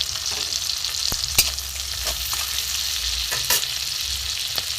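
Tomato and green chilli fry in a pan with a loud, dense, steady sizzle, punctuated by a couple of brief stirring scrapes.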